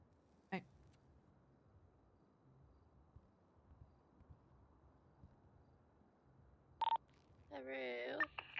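Brief phone dialing tones sound in a GTA NoPixel roleplay phone call. A short beep comes after a long quiet stretch, followed by a faint voice.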